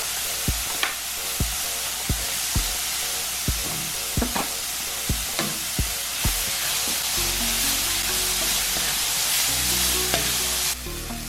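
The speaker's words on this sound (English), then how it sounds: "I'm gonna add in some of these grape tomatoes" Grape tomatoes sizzle in a frying pan, a steady bright hiss broken every half second or so by sharp clinks of a utensil against the pan. Near the end the sizzle grows fuller and thicker. No one speaks.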